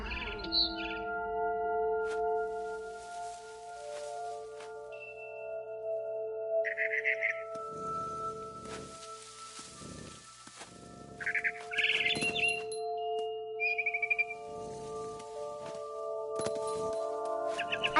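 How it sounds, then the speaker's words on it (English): Barn swallow chirping in the game What Remains of Edith Finch: short bright chirps and tweets recur over a steady tonal music bed, moderately loud, with no talking. "Then I heard chirping outside my window. It was a barn swallow going back to her nest."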